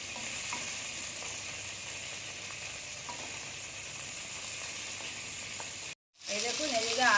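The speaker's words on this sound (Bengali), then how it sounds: "মাছগুলো একটু ভাজা হয়ে গেছে এবার উঠে নেবো" Fish sizzling steadily in oil in a pan, a dense continuous crackle with scattered pops for about six seconds, a brief cut to silence, then the frying resumes loud and close.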